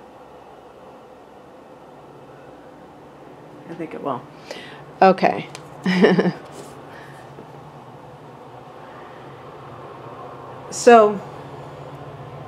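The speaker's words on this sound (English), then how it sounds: "And hopefully this train will be a quick train." A train passes nearby, giving a steady low rumble that runs through the whole stretch beneath a person talking intermittently.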